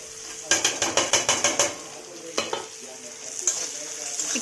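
Sliced onion and chili sizzle in a pan as a spatula scrapes and stirs in a quick rhythmic burst of about ten strokes, then a few scattered scrapes over a soft, steady frying hiss.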